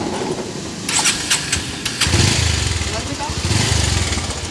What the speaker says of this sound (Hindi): देखिए घरघर घरघर लगता है कोई चीज़ टूट गया।